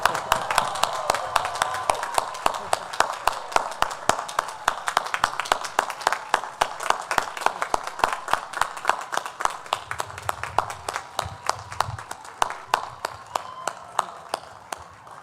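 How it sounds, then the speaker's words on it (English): At a university spring commencement ceremony, sharp, distinct claps ring out in a steady, fairly regular rhythm, sounding like a small group clapping rather than a dense crowd. "we'll give a round of applause to just celebrate with everyone."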